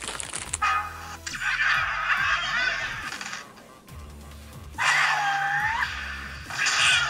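Game sounds from Angry Birds Space on a 2010 Archos 43 Internet Tablet: squawking bird cries and whooshing effects over a bouncy synthesized music loop, fairly loud and continuous with no talking.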